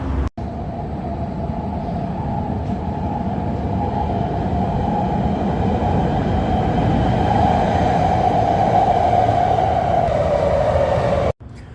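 Chicago train ride heard from inside the car: a loud, continuous rumble and steady hum of the moving train lasting the whole stretch, with no talking.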